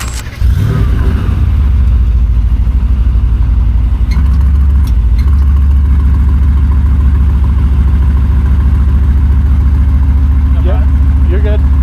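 A Mercedes-AMG GT R with a 4-liter twin-turbo V8 starts with a rough catch and then settles into a loud, steady, deep idle rumble close by, running unbroken throughout.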